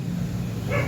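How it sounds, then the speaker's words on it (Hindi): Dogs bark in a short, fairly loud burst, with a yip near the end over a steady low background hum; no talking is heard. "कुत्ते भौंक रहे हैं असली वाले"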